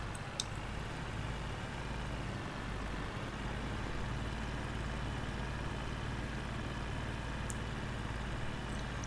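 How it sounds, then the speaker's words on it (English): Tractor engine in Farming Simulator 22, a steady low idling rumble held evenly throughout, with no talk over it. "This is a nice little tractor."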